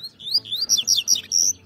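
A double-collared seedeater (coleiro) chirps close and clear in a rapid run of bright, sharp whistled notes, each short and bouncing, with no talk over it.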